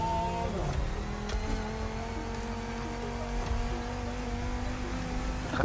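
A Ford Focus RS rally car in The Crew Motorfest drones with a steady engine tone and a slight pitch shift, loud and continuous, ending in a brief sharp bump.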